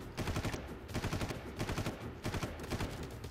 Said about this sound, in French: À distance avec une mitraillette lourde.